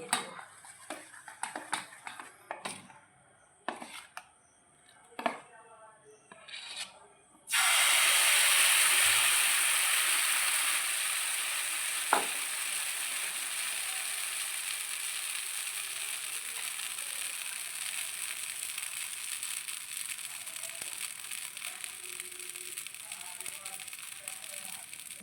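Batter poured into hot oil for a flour-based breakfast snack, bursting into a loud, steady frying hiss and crackle up close that continues alone after several seconds of kitchen clatter.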